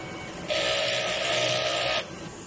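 A Smart 2Heads printer runs a head clean cycle, a steady mechanical whir with a pump-like hum that starts abruptly, holds level for about a second and a half, then stops, over a quieter background of machine noise.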